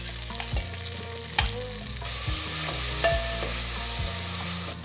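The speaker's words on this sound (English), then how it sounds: "now it's time to put our tomatoes in." Tomatoes go into a pan of soft, golden frying onions and spices for lamb Chettinad, and the sizzle swells into a loud steady hiss, with a few clanks of a spoon against the pan and no talking.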